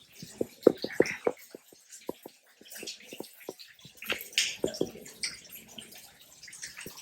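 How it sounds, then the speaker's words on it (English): Scattered water drips from rocks near a spring at Roaring River land irregularly, some sharp and close, others softer, over a quiet background of faint trickling. "I hear it dripping back there from the rocks."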